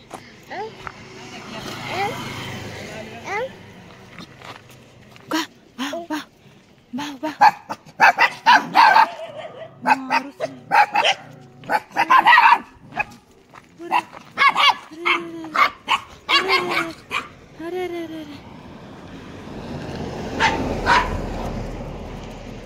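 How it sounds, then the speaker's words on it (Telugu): Puppies and their mother dog in a village setting give a series of sharp barks and yips, close and irregular, interleaved with people talking before and after the barking. "కుక్క పిల్లలు చూడండి."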